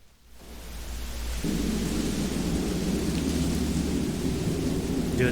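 Thunderstorm with rumbling thunder, steady rain and blowing wind at the end of an episode of Telltale's The Walking Dead game, swelling from quiet into a continuous, full roar that holds steady without speech.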